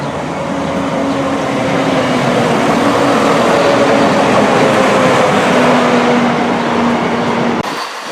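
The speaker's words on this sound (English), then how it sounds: "We're going to film some trains here for half an hour." A train rumbles steadily through Telford Central station, loud and close, with a sustained low drone and faint tonal whine from the passing rail cars, cutting off abruptly just before the end.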